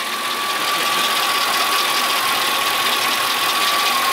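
A Mercedes CL 500 engine runs steadily with a continuous mechanical drone and a faint metallic ticking knock, suggesting a timing chain fault, heard close and alone with no voices.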